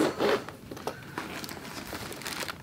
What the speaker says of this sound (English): it has two double zippers